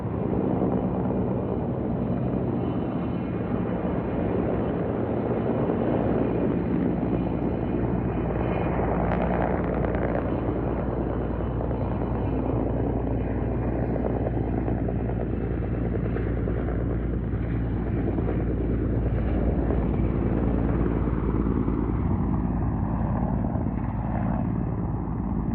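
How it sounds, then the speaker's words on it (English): Steady rotor drone of firefighting helicopters near Lake Arrowhead, California, loud and continuous, with a heavy low thrum and broadband roar holding for the whole stretch with no talking. "the helicopters worked hard to try to put it out"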